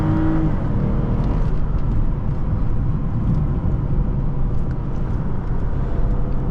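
From inside a moving 2006 Lexus IS250, the engine drones loudly and steadily, with a brief shift in pitch early on as it downshifts, over constant road and cabin noise.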